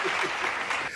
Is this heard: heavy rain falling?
no